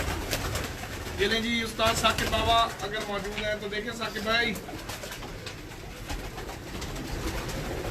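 Pearl-spotted pigeons coo softly in a loft while someone talks over them. The low, rolling calls come mostly in the first half, faint beneath his voice.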